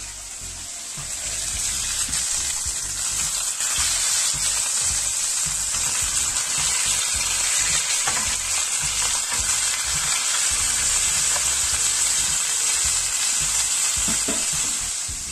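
Perch fillets fry in oil in a pan just after being flipped, making a loud, even, continuous sizzle with no voices over it.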